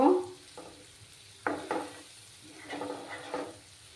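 Spice masala sautés in a pan with a little water for a vegetarian dinner dish, heard as soft sizzling broken by several scraping stirs of a spatula, fairly quiet and close, with no talk.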